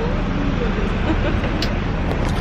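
Constant low rumble of a moving tour bus interior in London, road noise and engine drone filling the space, with faint indistinct sounds on top.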